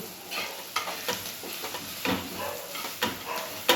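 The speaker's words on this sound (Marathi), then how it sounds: "सगळे मसाले हे घालू परत एकदा चांगलं मिक्स करून घेऊ" A spoon scrapes and stirs spices, including turmeric, into pulao sizzling in a pan, in a rhythmic series of close strokes over a steady frying hiss.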